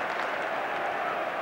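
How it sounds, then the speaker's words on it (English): Stadium crowd applauding during the Arsenal v Tottenham Premier League match at Highbury, a steady broad wash of clapping from one section of the ground, distant and continuous. "great applause from the section of the ground closest to Oleg Luzhny"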